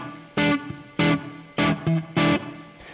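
Guitar strikes a substitution chord over an alt-dominant in five short, clipped stabs at an uneven rhythm, with brief silences between them, fairly quiet and close with no talking.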